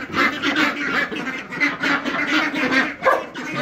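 A flock of ducks quacking continuously and loudly nearby at a barn, overlapping calls with no pauses.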